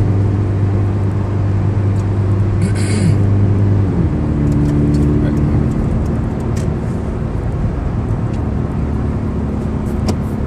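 Scion FR-S with automatic transmission cruising at 50 in fifth gear, a steady low engine drone and road noise heard from inside the cabin, with a slight shift in pitch partway through.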